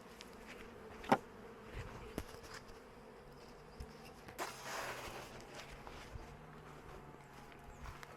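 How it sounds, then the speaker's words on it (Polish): Honeybees buzz around a hive, a faint, thin hum with occasional closer fly-bys and a few soft knocks and handling noises nearby. "Pszczoły znoszą pyłek"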